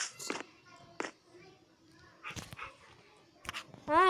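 During a Minecraft roleplay, a voice imitates a dog, giving several short, scattered yelping barks and whimpers at close range.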